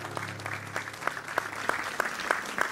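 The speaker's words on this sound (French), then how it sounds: "Et je voudrais qu'on continue à l'applaudir, Pierre" Studio audience applauding on a French television talk show, steady clapping with rhythmic emphasis running throughout, moderately loud and heard alone.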